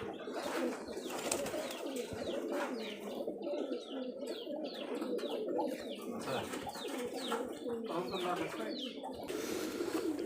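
Giribaj high-flyer pigeons from Rajshahi coo repeatedly in a steady, overlapping chorus, with scattered chirps and tweets from other birds mixed in, moderately close throughout.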